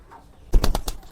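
A white pigeon at a loft: after a near-silent start, a sudden close burst of rapid wing flaps arrives in several quick beats, then fades.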